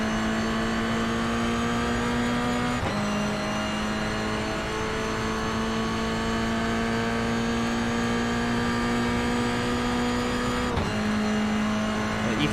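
Toyota GR86 race cars at a Long Beach street race, a steady loud engine drone with shifting pitch as the cars run in close slipstream, with two abrupt gear changes, continuous and near.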